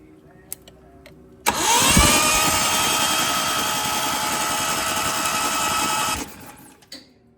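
An engine being cranked over after sprayed-in cleaner, a loud, steady whirring starter drone running about five seconds after a sharp onset, then cutting off, with a voice nearby.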